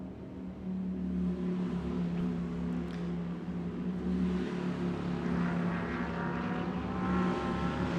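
GT Asia Series race cars, including a McLaren, run in qualifying at a Thailand circuit: a sustained engine drone with a rising, rasping note as a car passes, heard from trackside at moderate distance.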